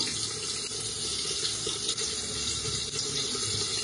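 Water poured into a simmering Bengali fish curry makes a steady, even rush of liquid that runs unbroken through the whole stretch, fairly soft and close, with no voices.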